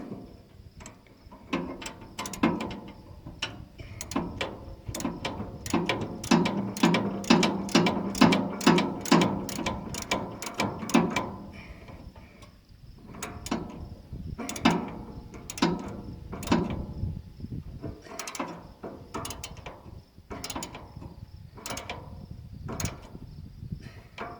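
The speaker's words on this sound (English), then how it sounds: "I'll just tighten up the clamp now, and it'll be all done." A wrench tightens a clamp on the wobble knife drive of a New Holland 495 haybine, making bursts of quick, evenly spaced ratcheting clicks, close and fairly loud, with short pauses between runs and no speech.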